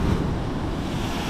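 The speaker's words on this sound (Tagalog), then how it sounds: "Medyo malakas yung alon eh." Strong ocean waves surge at Cabangaoan Beach in Burgos, Pangasinan, a steady, loud, broadband roar of surf mixed with wind rumble, with no voices.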